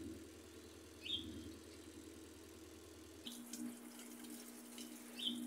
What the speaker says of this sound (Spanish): Ya empezó a echar agua otra vez.